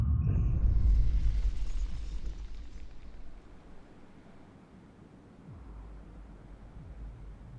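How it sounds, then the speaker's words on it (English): Explosion in a generator foundation and tunnel collapse in the video game Frostpunk, a loud rumbling blast that fades over several seconds into a low, lingering roar. "an explosion in the generator foundation causes a tunnel to collapse, trapping several workers"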